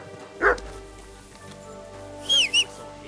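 A dog in Kingdom Come Deliverance II gives a short bark near the start, followed later by two brief high yips or whines, set against a steady game soundtrack.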